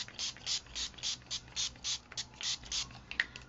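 Plum purple-magenta paint spritzed onto a burlap canvas: about a dozen short, soft hissing sprays in a steady rhythm, close by and fairly quiet, with no talking.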